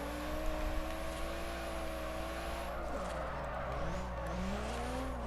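A car drifting in Forza Horizon, engine droning steadily while the tires squeal in long, pitch-bending whines through the slide, close and continuous, with no talk.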